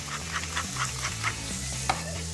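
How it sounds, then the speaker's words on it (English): Pancetta sizzles and crackles in a hot pan, with scattered pops and a low steady hum underneath. "Now, start frying off that pancetta."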